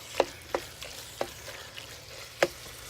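Ground meat for a Bolognese sauce toasting in a pan, with a few sharp scrapes from the stirring spoon over a soft sizzle, close and fairly quiet.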